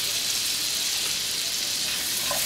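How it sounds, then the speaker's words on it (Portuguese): Cornstarch or wheat flour cooks in a hot pan with a loud, steady, close frying sizzle that runs unbroken throughout, with no voices. "Vamos deixar aqui cozinhar um pouco essa farinha para não ficar com gostinho de cru."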